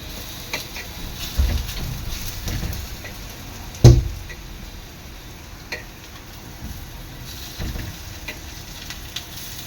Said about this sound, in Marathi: आपल्या वड्या आहेत ना दोन्ही साईडनी खरपूस रंग येईपर्यंत तळून घ्यायचे आहेत